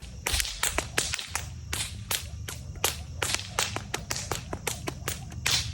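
Sharp metallic snaps in quick rhythmic bursts, loud and close, as heat-resistant metal fire fans flick open one after another, with no talking.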